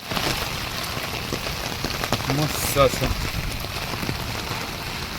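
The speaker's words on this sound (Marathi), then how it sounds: "संध्याकाळचं पाऊस तर काय थांबतच नाही" Steady rain patters on surfaces all around, a dense hiss, while someone speaks briefly over it.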